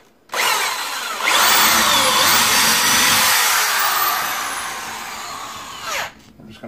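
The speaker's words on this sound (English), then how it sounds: "we're simply going to drill into the door frame as straight as we can by hand" A power drill whines up to speed and grinds steadily into a wooden door frame, close by, its pitch wavering before it winds down and stops.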